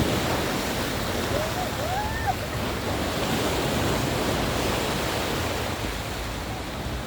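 Strong sea waves surge onto a beach at Kalim, a dense, continuous roar of surf mixed with wind buffeting the microphone, loud and close, with a faint brief voice near the start.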